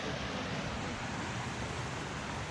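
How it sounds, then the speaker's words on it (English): Creek flowing out of Odessa Lake toward Fern Lake in Rocky Mountain National Park, a steady broadband rush of moving water, close and constant throughout with no voices. "That creek flows out of Odessa Lake into Fern Lake."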